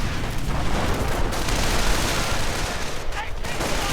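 Sustained gunfire from a video game battle, with suppressing fire tearing into stormtroopers and an anti-tank gun nearby, a dense continuous roar of shots and booms.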